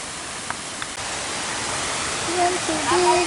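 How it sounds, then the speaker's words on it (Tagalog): A waterfall seen while camping gives off a loud, continuous rushing roar of falling water, with faint voices rising briefly over it toward the end. "tanaw na natin yung falls"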